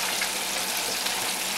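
Chicken wings deep frying in fresh grease for KFC-style chicken, a steady, dense crackling sizzle that holds evenly throughout without pause, close and moderately loud.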